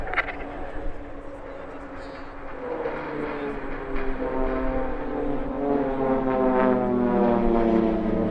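Swiss PC-7 propeller planes fly a crossing manoeuvre at the RAF Cosford airshow, their engines a loud droning buzz that swells and shifts pitch as they pass close by.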